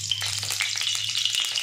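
Oil sizzles in a hot kadai while spicy stuffed brinjal is being prepared, giving a close, steady crackling hiss with small pops throughout and no talking.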